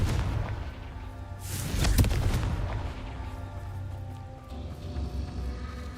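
A Confringo blasting spell explodes in the Hogwarts Legacy game, one deep booming blast about a third of the way in, rising out of a low rumbling background and trailing off.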